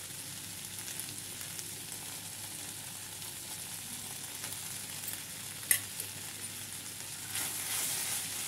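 Banana flower sautés quietly in oil, a faint, even sizzle with a sharp utensil tap and a louder burst of frying toward the end.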